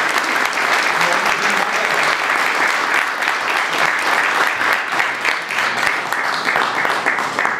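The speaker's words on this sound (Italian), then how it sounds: "chiedo quindi un applauso a noi" Sustained, loud audience applause fills a council chamber at an award ceremony, a thick continuous roar of many hands clapping with faint voices mixed in.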